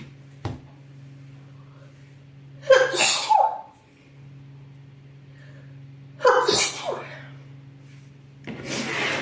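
Three sharp sneezes spaced a few seconds apart, each a loud burst standing out over a steady low hum, with quiet pauses between them.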